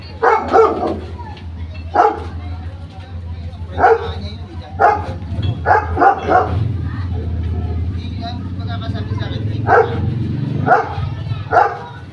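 A large dog barks repeatedly in separate bursts, fairly close, over a constant low rumble of traffic, with people talking in the background.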